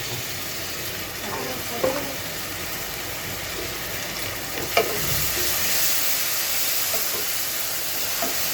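Fried fish sizzles steadily in a pan as two teaspoons of turmeric go in, a continuous close hiss broken by a few soft clicks and taps.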